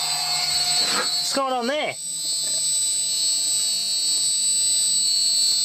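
Motor driven by a Huanyang VFD spinning up with a rising whine and pulsing hum, then settling into a steady high-pitched electrical tone; someone speaks briefly over it.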